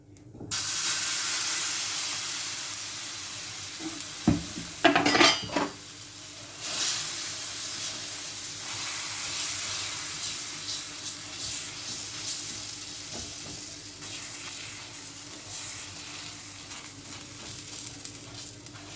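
Mustard seeds sizzle and crackle in a hot pan over a low flame, a steady close hiss with a burst of louder popping and spattering partway through.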